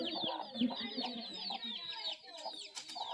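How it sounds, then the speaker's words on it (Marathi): High, repeated peeping chirps from small chicks, with soft clucking underneath, fairly close and continuous. "कोंबडीची छोटी छोटी पिल्लं आहेत तिथे बघा"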